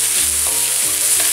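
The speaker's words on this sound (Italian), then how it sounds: "Diamo una bella mescolata e lasciamole cuocere un attimo." Salted eggplant sizzling and frying in a pan as a spoon stirs it, with scraping strokes recurring under the steady hiss, close and loud.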